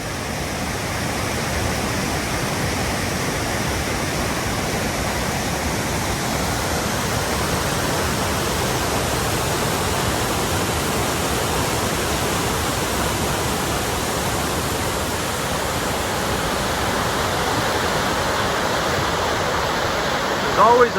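Rainbow Falls in the Adirondacks pours down near a small chasm, producing a loud, steady wash of rushing water that fills the whole scene without letup.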